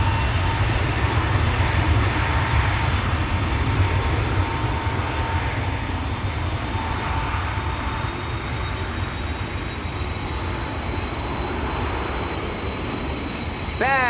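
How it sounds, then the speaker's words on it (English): A KLM Boeing 787-10 Dreamliner airliner on the move at Schiphol, its engines giving a steady, broad roar that holds evenly throughout, with a faint voice partly mixed in. "KLM flight 877 to Mumbai, 78710 Dreamliner"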